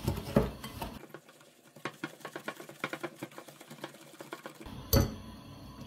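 Egg yolks for canelé batter are mixed in a bowl, making quick, rhythmic clinks and taps of a utensil against the bowl, close by and alone, with a louder knock near the end.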